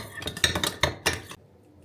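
A spoon stirring tomato-paste-coated food in a metal pot, a quick run of close clinks and scrapes against the pot, then stopping abruptly.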